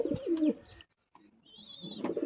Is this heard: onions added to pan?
no